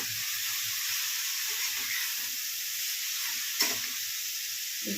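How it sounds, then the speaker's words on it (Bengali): Grated carrot frying in ghee for halwa, a loud continuous sizzle with occasional stirring scrapes and one brief clatter, no voices. "কোরানো গাজরটা এই ঘিয়ের মধ্যে ঢেলে দেবো"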